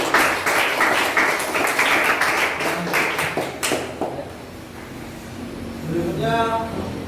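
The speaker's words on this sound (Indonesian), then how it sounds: "kita beri tepuk tangan untuk kelompok 1" A classroom group claps for the first presenting group. The applause is steady and fairly close for about four seconds and then fades into room noise and a faint chime.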